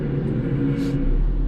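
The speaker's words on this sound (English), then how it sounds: "This eerie noise is the wind hitting the side of an empty tanker truck." A low, steady wind roar rumbles against the hollow metal side of an empty tanker truck, droning continuously with a faint rising whoosh partway through.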